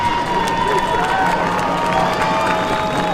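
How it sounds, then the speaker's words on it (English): Home fans at a night high school football game between Colerain and Lakota West cheer and clap together, a dense, sustained crowd roar with scattered applause and shouts, steady throughout. "The Colerain faithful are cheering and clapping, trying to urge this defense to do really an impossible task"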